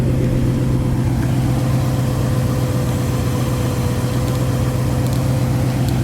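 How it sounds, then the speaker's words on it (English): A 1963 Ford Fairlane 500 with a 221 V8 cruises down the road, its engine a steady, continuous mid-low drone heard close and alone, with no talking. "Runs and drives down the road great, sounds good, accelerates well. Even with that 221 V8 in it,"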